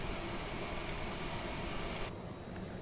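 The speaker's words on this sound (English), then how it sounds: "Then the engines will spool, as you hear in the background." Jet engine of a Cirrus spooling up during engine start in Microsoft Flight Simulator 2020, a steady broad roar and whine that drops off abruptly near the end.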